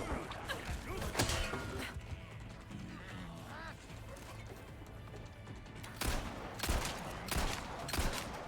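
Gunfire in the video game Resident Evil 4 Separate Ways, with bursts of shots and crashes clustered near the start and again toward the end amid mechanical game noise.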